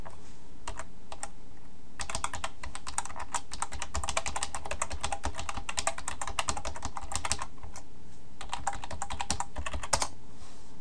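Computer keyboard typing in bursts of rapid key clicks, with short pauses between runs, close and clear with no talking.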